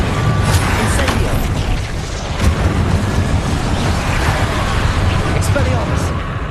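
An Incendio fire spell cast in combat in Hogwarts Legacy, a loud whooshing burst with rumbling booms under continuous noisy action, with a voice calling out over it.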